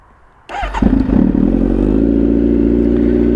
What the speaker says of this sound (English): Let me start the bike, hear the sound.